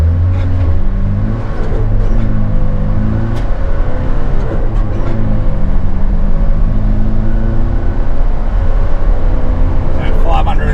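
A TF Holden Rodeo with a front-mount intercooler and custom intake plenum accelerates hard, its engine a loud, sustained droning pull heard from inside the cab, with a voice talking over it.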